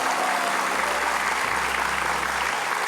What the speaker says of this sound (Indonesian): tepuk tangan buat Mbak Ira.